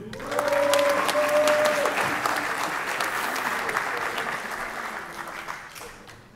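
Audience applause at a Master of Engineering diploma ceremony, steady clapping from a large crowd that swells quickly and holds for several seconds before thinning out, with faint tones and murmurs underneath.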